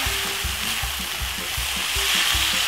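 Minced meat browning in a pan for spaghetti bolognese, seasoned with a teaspoon of paprika: a steady broad sizzle with repeated soft scraping stirs of a spoon, close and moderately loud, no talking.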